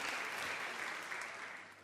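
Audience applause at a children's kindergarten choir concert, a dense, steady wash of clapping from a large crowd that carries on without pause and fades slightly toward the end.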